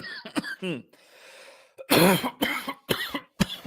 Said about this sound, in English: Even coughing hurts.